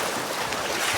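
Steady ocean surf at a beach resort in Dingalan, Aurora, a broad continuous wash of waves mixed with wind rushing over the microphone, loud and close, with no voices.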